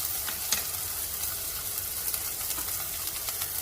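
Scallion whites and garlic frying in a pan, a steady soft sizzle with scattered crackles and stirring scrapes, fairly quiet and uninterrupted by voices.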